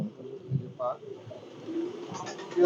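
A male pigeon gives a short, soft coo close by while people talk over and around it.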